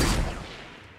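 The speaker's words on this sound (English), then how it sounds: "We're literally just shooting bullets at it." Gunfire in the Fortnite battle royale video game: a burst of shots at the start that fades out over about a second, loud and close, with no talk over it.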